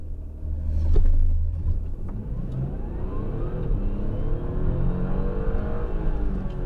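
A 2018 Audi A7 55 TFSI quattro engine revs as the throttle is released, swelling briefly near the start and then settling into a steady, close, mid-pitched rumble.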